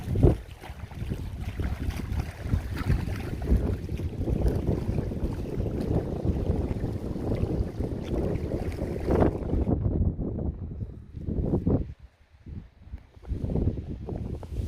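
Strong wind buffets a lakeside wild campsite at Bowscale Tarn in the Lake District, roaring steadily against the microphone for about nine seconds, then easing into lighter gusts with quieter gaps.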